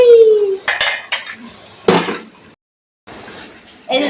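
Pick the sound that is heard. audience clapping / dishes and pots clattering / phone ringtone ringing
dishes and pots clattering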